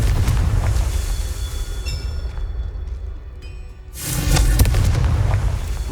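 Fiery spell explosions from the Hogwarts Legacy video game: a loud rumbling blast fades into a short lull, then a second heavy burst erupts and roars on.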